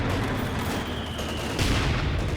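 Continuous battlefield din in Company of Heroes 2, with mortar and gunfire blending into a loud, dense roar of shots and blasts that swells slightly near the end.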